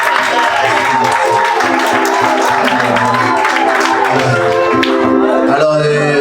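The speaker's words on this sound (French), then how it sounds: "Applaudissez pour Dieu" Guests at a wedding ceremony clap together after the couple is pronounced husband and wife. The clapping is loud and close, mixed with crowd noise and voices, and runs on for several seconds.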